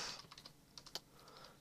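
Quick, light keystrokes on a computer keyboard while logging into an Xbox Live account, a handful of soft close clicks in an uneven burst, faint and alone.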